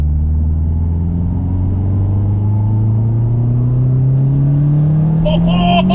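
A Subaru WRX STi in sport sharp mode accelerating hard, its engine drone rising steadily in pitch from inside the cabin, loud and continuous, with a brief clatter near the end.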